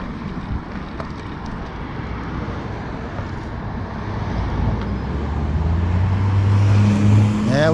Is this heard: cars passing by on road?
yes